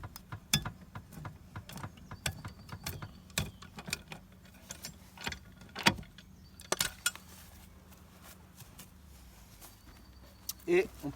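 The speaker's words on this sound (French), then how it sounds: "Maintenant on peut redescendre le cric." A car jack is lowered on a Renault Twingo, heard as faint irregular metallic clicks, clanks and ratcheting taps scattered across the clip, close by and with a soft background hum.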